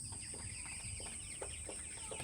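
Scattered short clucks and chirps from Sonali chickens on a poultry farm over a steady, droning background hum, with no voices.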